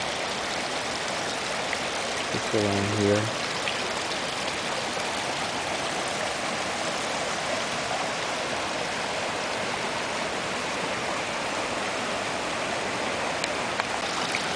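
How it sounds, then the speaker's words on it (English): Creek water rushes and spills over a small log into a little waterfall along a May hike at Snow Lake, a steady broadband roar filling the whole stretch, with a brief engine-like hum and a few spoken words partway through. "There's water falling over there, and it curves around and goes"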